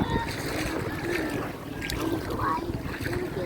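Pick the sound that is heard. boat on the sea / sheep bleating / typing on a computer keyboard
boat on the sea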